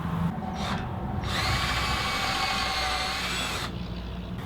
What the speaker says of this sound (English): I'll just secure it with a couple of wood screws